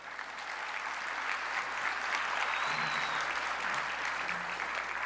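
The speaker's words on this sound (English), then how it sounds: "Give yourself an applause." Audience applause in a large hall at a city winter convening, a steady, dense wash of clapping that holds evenly for several seconds, with no talk over it.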